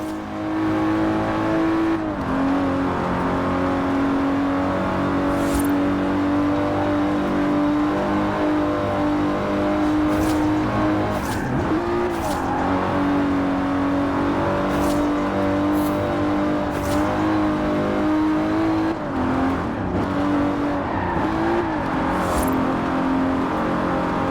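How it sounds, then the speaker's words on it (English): Engine of an Aston Martin DB5 Vantage, a 1960s grand tourer with side-draft carburetors, in the racing game Forza Horizon 4, droning steadily and loud throughout, rising and falling in pitch across shifts with a few sharp transients, no talk. "The Aston Martin DB5 Vantage was the quintessential grand tourer of the 1960s."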